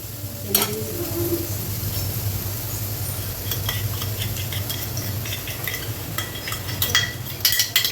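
Masala with chilli powder fries in a pan with a steady sizzle, broken by repeated stirring scrapes and spoon clinks on the pan's edge.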